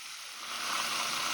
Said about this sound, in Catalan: Tenim que tractar que el bacallà estigui poca estona enfarinat i esperant per fregir